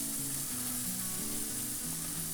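Mild diced green chilies sizzle on cheeseburger patties on a Weber Spirit grill, a quiet, steady frying hiss with no talking.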